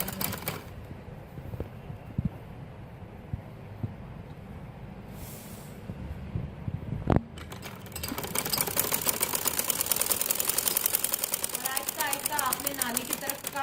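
A sewing machine stitches fabric for men's Bermuda shorts, starting after a few seconds of quieter handling and a sharp clack, then running in a fast, steady rattling burst. A voice talks at the start.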